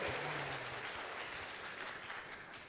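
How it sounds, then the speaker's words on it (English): Audience applause at a tech startup competition final, a steady wash of clapping from a crowd that slowly fades, heard at modest level with a faint low tone briefly underneath. "Another round of applause, please."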